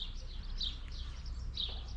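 Several birds sing in a garden in May, their faint, high chirps and short calls repeating over a soft, constant outdoor hum.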